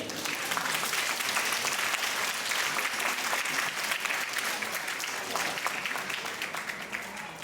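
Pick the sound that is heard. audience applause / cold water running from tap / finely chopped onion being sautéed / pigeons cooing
audience applause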